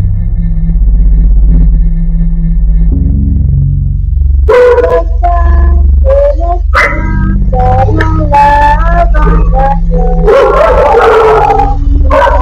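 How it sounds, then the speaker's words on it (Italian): Several dogs bark and yip at close range, loud, in irregular bursts that grow busier toward the end, over a steady low drone. "alcuni cani incominciano ad abbaiare"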